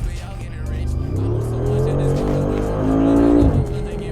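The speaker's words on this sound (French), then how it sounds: "Écoutez du coup l'échappement au niveau des accélérations" A Mercedes G63 AMG Brabus in Sport Plus mode accelerates hard, its exhaust note rising in a loud, close, sustained roar before easing off near the end.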